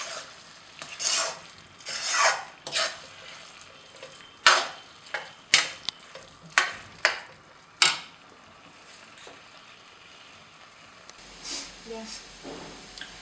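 Grated carrots for gajar halwa stirred in a pan over a low flame: close scraping and rasping strokes in uneven bursts with soft sizzling between, fading to quieter stirring near the end.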